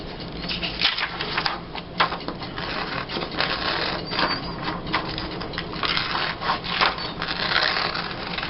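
Scissors cut a magazine picture for a Mickey and Friends glue book, a steady run of close, crisp snipping and paper rustle with repeated sharp cuts, no talking.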